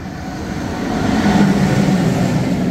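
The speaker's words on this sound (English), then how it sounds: "I guess train is even coming." A train passes along the track in Männedorf near Zurich, Switzerland, a steady close rumble that swells to its loudest midway and stays heavy to the end, with no talk over it.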